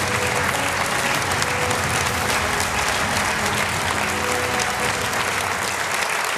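Sustained, dense applause from an audience at a Conservative Party general election manifesto launch, loud and steady throughout with no talking.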